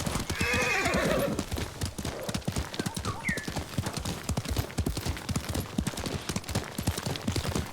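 A horse in the video game Ghost of Tsushima neighs loudly at the start, then gallops with a steady, rapid drumming of hooves that runs to the end of the clip.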